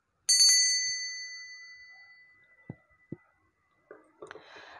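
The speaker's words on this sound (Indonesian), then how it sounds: "ditandai dengan lonceng berbunyi" A small bell rings once, clear and bright, and its tone fades slowly over about two seconds, followed by a few soft clicks and light rustling.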